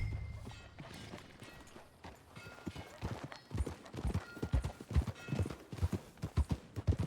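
Horse hooves clip-clop in a steady, quickening rhythm during riding in Red Dead Redemption 2, starting soft and growing louder and closer over the course of the sound.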